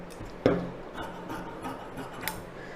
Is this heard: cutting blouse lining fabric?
yes